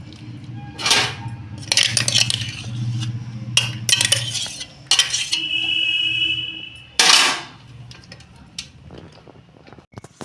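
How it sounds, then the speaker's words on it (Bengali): A lid lifted off a cooking pot during cauliflower pakora preparation, giving several sharp metallic clinks and clanks spread through a quiet kitchen, with a faint steady tone running underneath. "আমি ঢাকনাটা একটু খুলছি"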